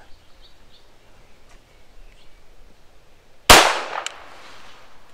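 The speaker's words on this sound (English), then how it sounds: "On the first shot, folks, the Canik TTI Combat is a 7-yard tack driver." One sharp, loud gunshot from a Canik TTI Combat pistol on an outdoor range cracks out after a stretch of near silence, then trails off in a brief echo.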